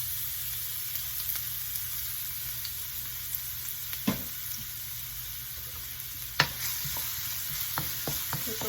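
Ginger frying in about two tablespoons of hot olive oil gives a steady, soft sizzle throughout, broken by a few sharp clicks and scrapes of stirring, with no voices.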